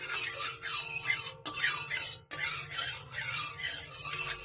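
A spoon scrapes and swirls through hot mustard oil in a pan, a close, raspy rubbing in repeated strokes with brief pauses between them.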